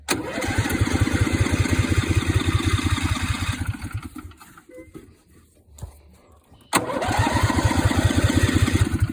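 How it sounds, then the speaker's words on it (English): A Poleman mud mower engine runs loudly with a steady low chugging, cuts out to near silence for a few seconds, then fires back up and returns to a strong, even idle. "So we're gonna fire up now."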